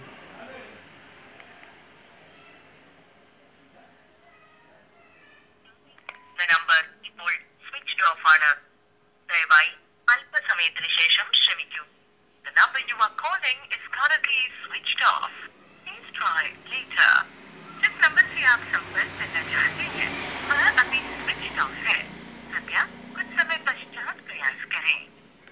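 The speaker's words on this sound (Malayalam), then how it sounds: "നമ്മളിപ്പോൾ ഈ ഫോണിലേക്ക് കോൾ ചെയ്യുകയാണ്." A steady ringback tone sounds as an outgoing call rings through to a Redmi Note 7 with an incoming-call fault, followed by close, continuous talking over the line.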